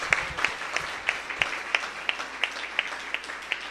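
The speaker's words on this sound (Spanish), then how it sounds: "Vamos a darle otro aplauso, pero más fuerte al Señor." A church prayer-group congregation claps together in a slow, even rhythm of about ten sharp claps, moderately close, over a faint room hum and no clear talk.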